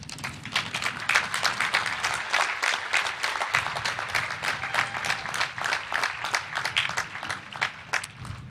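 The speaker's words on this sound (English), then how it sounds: "Let's applaud these graduates and encourage them" Sustained applause from a commencement audience for a high school graduating class, dense overlapping claps at steady volume filling the hall throughout, with faint murmurs underneath.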